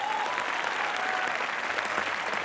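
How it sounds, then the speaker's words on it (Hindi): Studio audience at a television comedy show bursts into loud, dense applause, a sustained close wall of clapping that stays even throughout, with no voices on top. "ठोको तालियां जरा जोरदार।"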